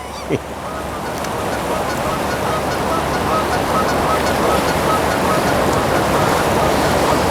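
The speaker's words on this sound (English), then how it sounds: "God, those geese are annoying." Geese honking repeatedly in a noisy outdoor setting, loud and continuous with a steady wash of background noise.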